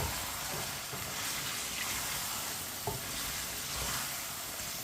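Peas and chicken stirred in a hot pan for matar chicken, a steady loud sizzle of frying with soft scraping stirs throughout, no voices.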